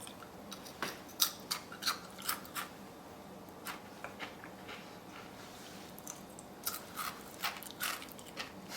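Crunchy homemade Chex Mix is chewed close to the mic, with a steady run of sharp, irregular crunches and bites over several seconds and no talking.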